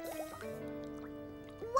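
A cartoon fish blows bubbles in water, heard as a few soft gurgling, bubbly blips over a sustained tonal background, brief and close.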